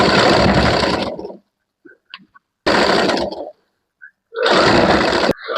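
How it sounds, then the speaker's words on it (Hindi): A sewing machine stitching a puff-sleeve blouse, running in three short whirring bursts of about a second each, separated by quiet pauses with faint handling clicks. "फिर हमें इसको इस तरीके से मशीन में लग करके सिल लेना है।"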